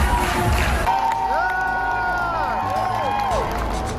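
A crowd of fans cheers and shouts steadily throughout at an RRR movie screening in Los Angeles, with melodic singing or music lines rising over the crowd noise.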